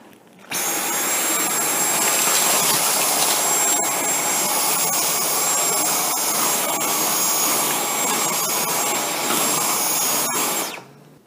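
A Dyson V10 cordless vacuum cleaner with its soft brush roll cleaner head runs in low power mode on a bare floor, giving a steady, loud, high-pitched whine that starts abruptly, holds for about ten seconds and then cuts off. No one speaks.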